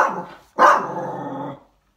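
A pet dog gives two close barks, a short one followed by a longer, drawn-out growling bark, loud and alone in a quiet room.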